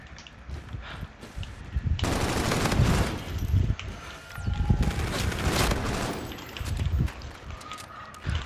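Gunfire in a video game hardpoint match, sustained bursts of automatic fire and rattling shots layered over a constant background of game noise, loud and continuous across the clip.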